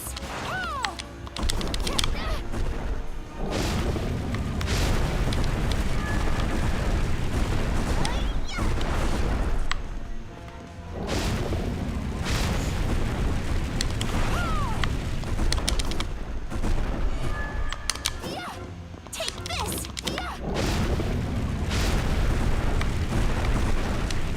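Fire attacks in the video game Bloodstained: Ritual of the Night burst and boom in loud, repeated waves over dense game sound, with a person talking at times.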